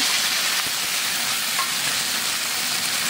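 Mustard seeds, cumin and onions sizzle steadily in hot oil for a tomato curry, a dense continuous crackling fry heard up close with no talking.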